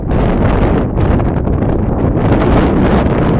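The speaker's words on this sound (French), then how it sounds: "C'est un peu venteux, hein, mais voilà." Strong coastal wind on Gozo buffets the microphone in loud, rumbling gusts that rise and fall continuously, with no voices.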